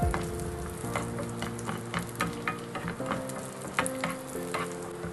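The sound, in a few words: crushed cashews and almonds frying in ghee in a pan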